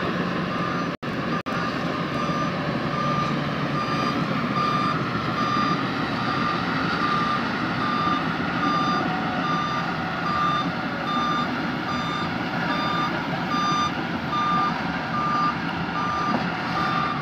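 Rental vehicles, including a Pajero Sport, queueing to reverse into parking in Balikpapan, with evenly spaced reversing beeps repeating over a steady engine rumble for the whole stretch.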